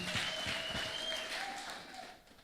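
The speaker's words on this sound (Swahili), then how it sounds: "Asante, tupigie Kabro makofi mazuri" A crowd applauds steadily, with a faint high ringing tone running through the clapping, which gradually fades toward the end.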